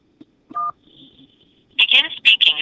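A telephone keypad press of the 1 key sends a short two-tone DTMF blip, followed by a steady high beep, then a recorded voice speaks.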